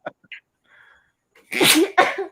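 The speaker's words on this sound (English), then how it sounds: "Excuse me, I had to sneeze." A single loud sneeze close by, with a short sharp intake before it, after a few soft clicks and breaths.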